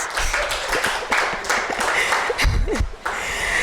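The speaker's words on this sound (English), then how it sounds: "A very round of applause for her, please." Audience applause at a women's empowerment event for a humanitarian NGO, a dense steady patter of many hands clapping throughout with some scattered louder claps, filling the room at moderate volume.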